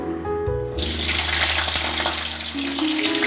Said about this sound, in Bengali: আলুটাকে আমি প্রথমে ভেজে নিচ্ছি।